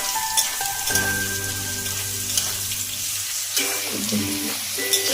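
Carrots and potatoes frying in a pan for a Bengali vegetable bhuna, a steady close sizzle that holds throughout, with faint scraping and clinks from stirring.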